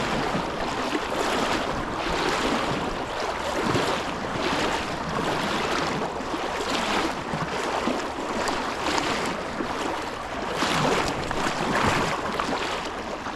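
Tulpehocken Creek current rushes steadily around a wading angler's legs in Pennsylvania, a continuous broad wash of flowing water with gusty swells, close and fairly loud, with no voices.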